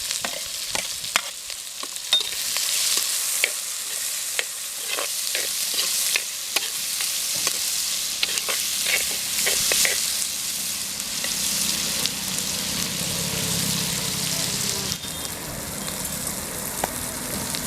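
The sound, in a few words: onion and garlic frying in a pan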